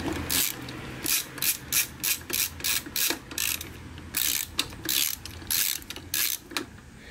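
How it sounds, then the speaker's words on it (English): Ratcheting of a hand tool backing a screw out of an 1985 Yamaha Virago XV700 motorcycle, in quick bursts of close, crisp clicks with short pauses between strokes. "Got one screw out."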